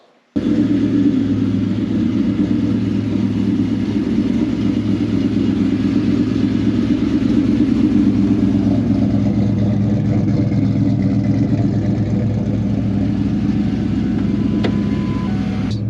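2003 Ford SVT Cobra with a T56 Magnum manual transmission under way, its engine starting with a sudden rise into a steady, loud interior rumble that holds almost unchanged for the rest of the drive, no speech.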